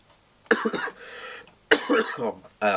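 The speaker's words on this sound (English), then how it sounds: "I've got a terrible cough today." Two bursts of harsh, loud coughing close to the microphone, separated by a short pause, with a rough breathy hiss between them.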